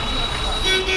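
Steady roar of a jammed busy road in Mayiladuthurai, buses and cars idling close by, with a horn tooting under the continuous traffic noise.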